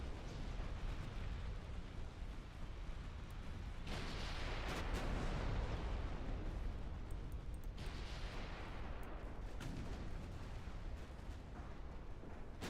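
Torpedo explosions in a naval battle video game: a continuous dense roar of blasts and rumbling booms, loud and sustained, with heavier bursts surging every few seconds and no talk.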